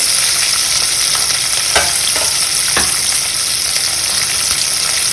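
Tomato, garlic and green chili stir-fried in hot oil for misal, a steady loud sizzle with a few sharp stirring scrapes cutting through near the middle.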